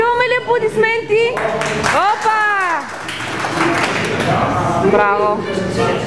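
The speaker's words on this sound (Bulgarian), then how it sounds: "И чуваме ли аплодисменти?" Audience at a powerlifting tournament applauding and cheering in a lively indoor crowd, scattered claps running under loud shouts and excited voices for several seconds.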